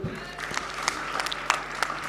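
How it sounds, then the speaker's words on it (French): Applause from an audience greeting a novelist introduced as the first of five speakers at a French political meeting on resisting repression, moderate and steady, with scattered individual claps standing out over the crowd for about two seconds. "je vous demande de l'applaudir"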